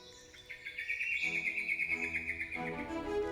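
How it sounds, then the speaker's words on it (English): In a subtropical rainforest in New South Wales' New England High Country, a bird gives a clear, rapid chirping call close by, with other faint birdsong behind it. "You can hear catbirds, eastern whipbirds, and wampu pigeons."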